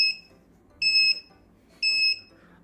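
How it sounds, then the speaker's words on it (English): An STM32 Nucleo F411RE safety door lock sounds its alarm after a wrong password, giving three short electronic beeps in an even rhythm, high and piercing, with quiet gaps between them. "the alarm will also sound for 30 seconds"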